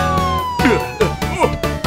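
A cartoon police car's wailing siren runs through a children's song, a falling tone under bouncy music with a childlike singing voice over it.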